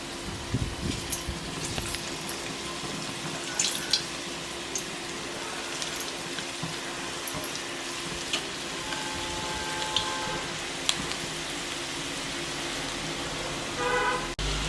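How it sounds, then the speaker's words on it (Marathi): Cabbage balls frying in hot oil give a continuous, even hiss with faint scattered crackles, heard close and steady throughout. "तेल गरम झालंय आता याच्यात हे बॉल सोडू गो"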